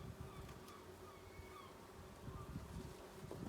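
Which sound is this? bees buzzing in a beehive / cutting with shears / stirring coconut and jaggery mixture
bees buzzing in a beehive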